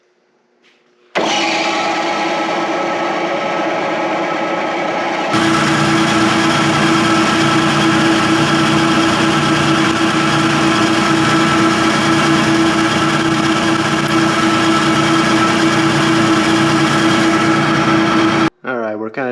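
An end mill on a milling machine cuts away a stripped or broken screw head, a loud steady machining drone with a constant tonal hum that holds for about thirteen seconds after a spin-up, with voices talking over it.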